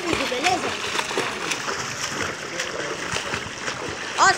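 Splashing and sloshing from someone swimming in a pool during a breath-holding challenge, irregular water splatter close by throughout, with voices talking over it.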